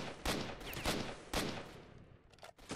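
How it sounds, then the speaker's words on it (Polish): Several loud gunshot bursts crack out in quick succession in the video game S.T.A.L.K.E.R.: Shadow of Chernobyl, a few sharp blasts followed by fainter scattered shots in a busy, echoing soundscape. "niezłe strzały obok"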